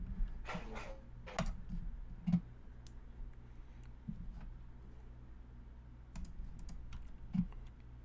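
Computer keyboard typing during a 3D design session, a few loose bursts of keystrokes and isolated clicks over a steady low hum of background noise.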